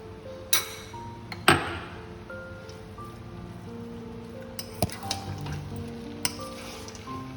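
Homemade mixed chowmein is stir-fried in a pan as peanuts and previously fried eggs go in, giving a continuous crackling sizzle punctuated by a few sharp clanks of the spatula against the pan.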